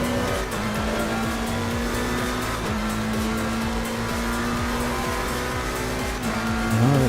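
A Tatuus open-wheel race car in Assetto Corsa VR screams at full throttle, its high-revving engine a steady sustained whine with a rising pitch near the end, loud and close with no talk.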